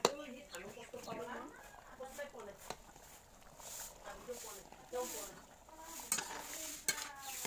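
A spoon scrapes and clinks around a pot of fish head and joha rice while food faintly sizzles, and someone talks over the stirring.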